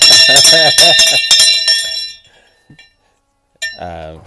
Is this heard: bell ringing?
yes